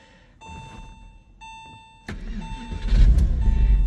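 A 1999 Porsche 911 starts up: a chime and warning tones sound, then the engine cranks and catches into a loud, rising rumble that keeps building at close range, with no one talking.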